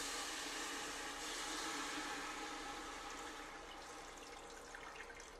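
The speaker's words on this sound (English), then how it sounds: "And then just add in some water." Water pours from a tap or jug into a cooking pan, a steady, faint rushing splash that eases slightly toward the end, heard alone without talk.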